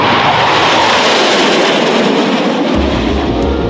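A MiG-17F jet fighter with an afterburner-equipped engine, a loud continuous roaring jet noise, broad and powerful, with a deep rumble building toward the end.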